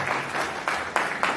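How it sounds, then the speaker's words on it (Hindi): Audience applause at a national disability-awareness event with a poetry gathering, a broad steady wash of clapping with a few swelling bursts, fairly distant and continuous. "एक बार जोरदार तालियां उनके लिए"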